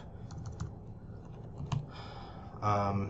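Rapid clicking of computer keys in short bursts, close by, with faint background hum and a brief louder rustle near the end.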